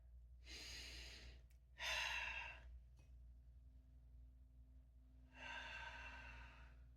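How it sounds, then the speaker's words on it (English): Three long, breathy airflow sounds come during a calm guided breathing pause, first an inhale and then an exhale, with a short gap and a third breath after it, close and fairly loud over a low steady hum. "let's take a deep breath"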